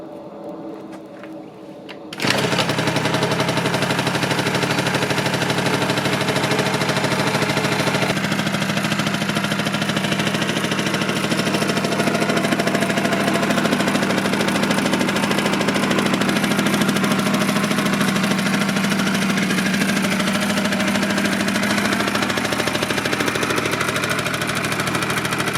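A 1986 Honda Spree scooter engine that sat outside for 25 years starts after a brief quiet moment. It then idles loudly and steadily up close with a rattly, buzzing small-engine drone.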